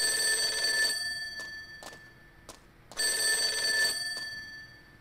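An in-game telephone rings in Persona 4 Golden, a clear electronic bell trill in two bursts separated by a short pause, with faint ticks between, at moderate level and no voices.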